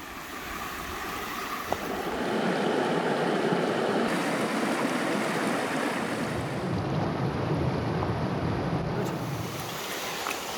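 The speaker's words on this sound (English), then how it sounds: "A lot of water coming down today" Steady, loud rushing of water, a broad roar like a stream swollen by heavy rain close by on a farm in Snowdonia, continuous throughout with some wind buffeting.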